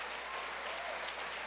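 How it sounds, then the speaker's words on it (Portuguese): A church congregation claps in a dense, steady burst of applause, many hands blending into an even wash of sound at moderate distance. "Vamos dar uma salva de palmas para Jesus."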